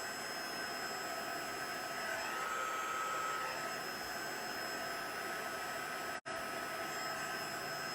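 A heat tool blows a steady, even whoosh while drying a scrapbook layout, a continuous airy hiss heard close and alone for several seconds with one brief cutout.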